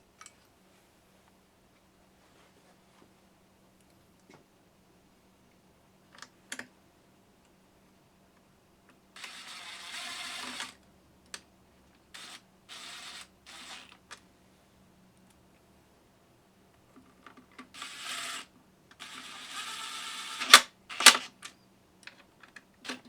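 A rattle gun drives small screws into a Homelite 330 chainsaw during assembly, giving several short, sharp mechanical bursts of rattling clatter separated by quiet pauses, close and fairly loud against a near-silent bench.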